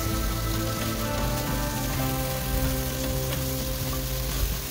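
Carrots and green beans sizzling in a pan with green chile for a Salvadoran escabeche: a steady, dense crackle and hiss, close and constant throughout, with a few faint stirring scrapes and no voices.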